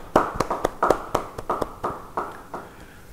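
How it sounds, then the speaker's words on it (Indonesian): Scattered, uneven clapping from a church congregation at a sermon, about a dozen distinct claps in a loose irregular rhythm, fairly close and alone with no talk. "Sekali lagi beri tepuk tangan bagi dia."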